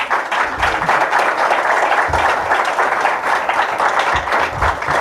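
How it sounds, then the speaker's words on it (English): An audience at a seed-capital application talk applauding, with dense, continuous clapping from many hands close by, sustained at even loudness throughout. "I was there smiling and clapping away happily."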